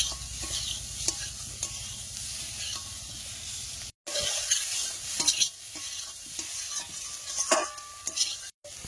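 Eggs and potatoes are stirred and fried in a pan, with continuous sizzling and scraping, spatula clinks against the metal, and two brief cut-outs.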